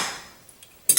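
A utensil clinks against a bowl while rinsed noodles are mixed for spicy peanut noodles, a few light taps, then a brighter scraping clatter close up at the end.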